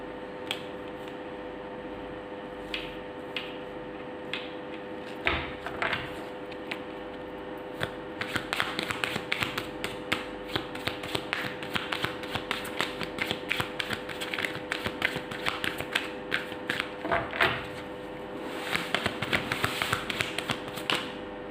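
Tarot cards are shuffled and dealt onto a surface, a long run of dense, close riffling, flicking and tapping that grows busier after the first few seconds, with a steady hum underneath and no talking.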